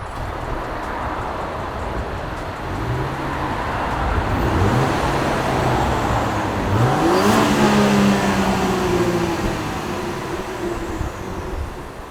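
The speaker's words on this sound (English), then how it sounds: "So this is what the car sounds like now." Land Rover Defender P400 on its stock exhaust, engine idling with a steady low drone, then revving up in a few rising pulls that peak around the middle and settle back, close and loud with no talking.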